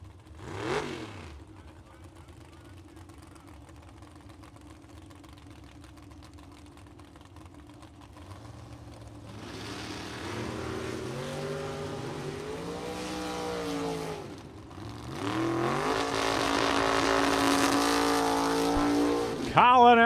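A short-wheelbase rear-engine dragster from Rockford, Illinois roars down a drag strip in a Super Pro bracket race, its engine note rising and sweeping past close by, with announcer talk, crowd and track noise building to a loud finish.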